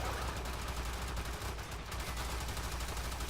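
Steady, unbroken barrage of automatic fire from a crowd of about twenty high-level heavy gunner enemies in the shooter game Warframe, a dense, constant roar of shots that is fairly faint in the mix and carries no speech.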